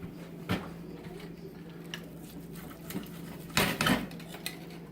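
Knife and fork cutting into a grilled chicken thigh wrapped in bacon and filled with cheese on a plate, a few sharp metallic clinks and scrapes over a quiet low hum, with the loudest clatter near the end.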